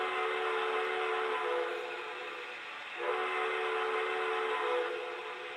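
A Crusader model train engine plays its sound effects, a sustained whistle-like tone over a steady mechanical hum that dips and swells slightly, close and fairly loud with no talking.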